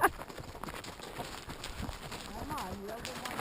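Horse hooves clip-clop steadily along a trail on a horseback ride to San Lorenzo Canyon, a moderately close rhythmic plodding with faint background voices and outdoor noise.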